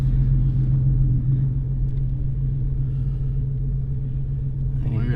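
A twin-turbo 3.7L V6 Mustang idles with a deep, steady rumble heard close from inside the car, a constant low drone with a faint voice near the end.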